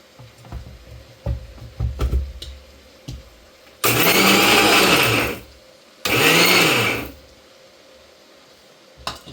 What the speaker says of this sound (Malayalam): നമ്മളിത് ഇത് മിക്സിയിലോട്ടിട്ടൊന്ന് പൊടിക്കാൻ പോവാണേ.